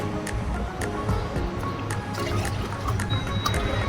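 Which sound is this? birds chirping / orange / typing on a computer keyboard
orange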